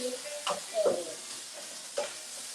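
Vegan taco filling of red and green peppers and purple onion with taco seasoning is stirred in a pan, with three or four soft scrapes over a faint, low sizzle.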